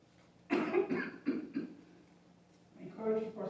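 A person imitating the coughing of a choking adult during a first-aid demonstration, a few harsh, forceful coughs in quick bursts close up, followed by speech.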